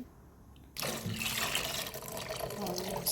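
Water is poured into a cooking pot holding rice: after a short quiet moment a loud, steady gushing starts abruptly and runs on close by.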